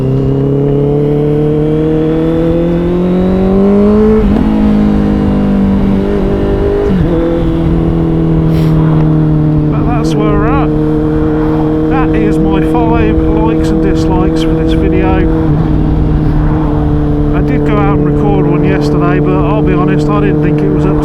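Honda CBR650R motorcycle engine while riding, a steady loud drone with rises and falls in pitch as the revs change, continuous throughout with some rushing wind noise.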